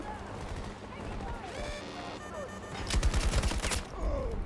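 A sentry gun fires in Battlefield 2042 within a dense game battle: steady automatic bursts and a heavy, louder volley near the end, layered with other gunfire and voices talking over the combat.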